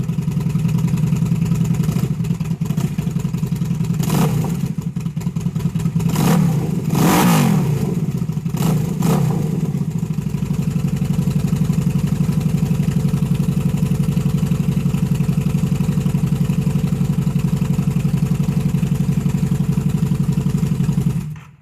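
A motor's engine idles steadily just after an oil change with a K&P Engineering high-performance filter, with a few sharp revs early on before settling into a constant low rumble near the microphone.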